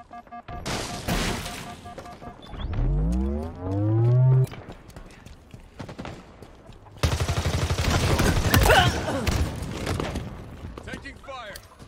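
Rapid gunfire bursts in Halo Infinite multiplayer on the Bazaar map, loud clustered shots alongside game effects and a rising tone, with players talking over the action.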